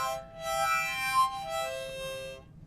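A sustained harmonic wind-instrument tone bent in pitch by moving the jaw, held for about two seconds with a slight waver midway, moderately loud and close, with no talking.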